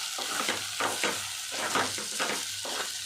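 Egg curry with ground coriander, cumin powder and garam masala being stirred in a hot pan, a steady sizzle broken by rhythmic scraping strokes roughly every half second, close and alone.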